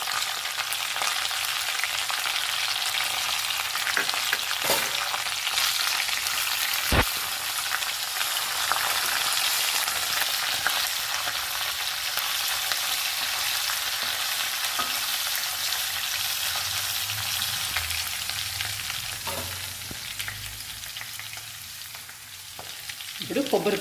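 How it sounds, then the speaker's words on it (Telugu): Curry leaves and crushed garlic cloves frying in oil for coconut chutney seasoning, a dense steady crackling sizzle throughout with one sharp tap of a utensil, close and unaccompanied by speech. "కరివేపాకు వేసుకుందాము. వెల్లుల్లి రెబ్బలు వేసుకుందాము."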